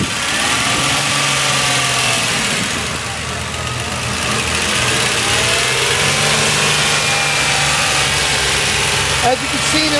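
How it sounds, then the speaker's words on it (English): A 2004 Nissan Maxima with 102,000 miles runs on a used car lot, its engine droning close and loud with a slight rise as it revs. "We're going to hear the engine rev a little bit."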